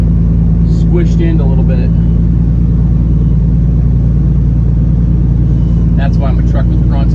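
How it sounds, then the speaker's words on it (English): A hopper bottom truck labours through a soft cornfield, its engine holding a low, heavy, steady drone throughout while someone talks over it in the cab. "That's why my truck was grunting there for a second."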